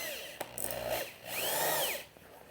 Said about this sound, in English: I don't think I'm going to have a drill bit that's going to work other than this one.